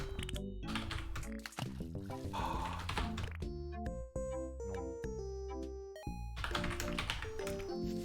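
Keyboard typing in a typing video game, rapid irregular key taps mixed with game music and tones, fairly quiet.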